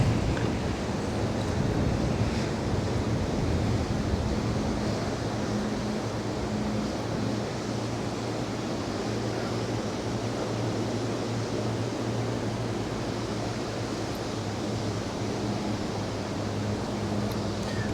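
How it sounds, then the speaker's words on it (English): Strong, steady wind roars across an exposed fishing spot, a continuous broadband rush that stays loud and unbroken throughout with no voices. "wind's pretty tough up here"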